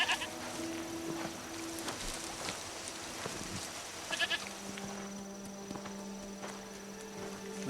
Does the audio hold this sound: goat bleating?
yes